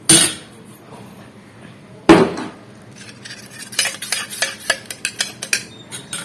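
A ladle clatters in a metal vessel while lassi is being made, with a sharp clank at the start, another loud hit about two seconds in, then quicker rhythmic clinks and scrapes of stirring.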